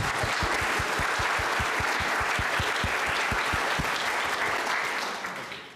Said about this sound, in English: Let's give him a round of applause as he comes forward.